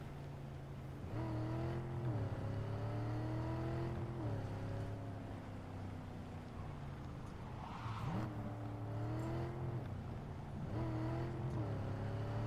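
Car engine in the video game Cyberpunk 2077, droning steadily with repeated rises in pitch as it revs and shifts through gears while being thrown around, loud and continuous with no talk.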